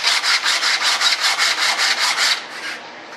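Block sander on wood while building an RC B-1 Bomber jet model: a close, loud rasping scrub in about a dozen even back-and-forth strokes, then it stops and only faint hiss is left.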